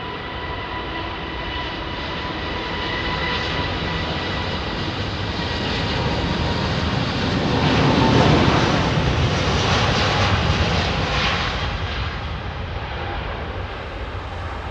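Jet airliner departing Heathrow runway 27R, a loud sustained roar that swells toward the middle and slowly eases, broadband and continuous with no voices over it.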